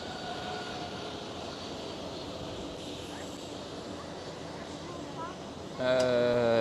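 An Emirates Boeing 777 departing Amsterdam Schiphol sends a steady, distant jet roar with a faint whine, rising sharply louder in the final second as a nearer tonal sound cuts in; a voice speaks over it.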